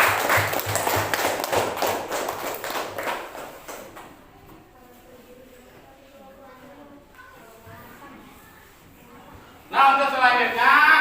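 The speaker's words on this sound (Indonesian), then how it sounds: "Tepuk tangan ya." Students in a classroom clap hands in a brisk, rapid burst over the first few seconds, then it quiets into low room noise and movement before a voice starts talking loudly at the end.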